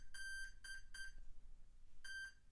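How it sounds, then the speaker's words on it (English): An RC aircraft's electronic speed controller sounding its calibration beeps: four clear, faint tones in a broken rhythm, some short and some held longer, over quiet room noise with no talking. "I'm going to plug it in, and I'm going to wait for some beeps"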